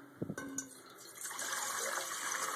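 Water pours into a pot set on a Vector stove, about three cups of it, a gushing fill that starts with a few clinks and steadies into a continuous close rush.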